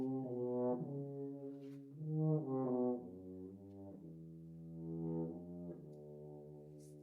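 An atonal melodic line, not in any key, moves through sustained, smoothly gliding tones in a slow wandering phrase, soft and close with no voices.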